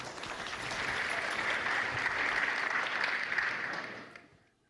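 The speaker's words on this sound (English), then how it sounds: "So yes, let's give them another round of applause." A family event audience gives a round of applause, a dense steady patter of many hands that swells, holds and fades out at the end.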